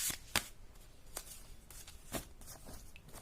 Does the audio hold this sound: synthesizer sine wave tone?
no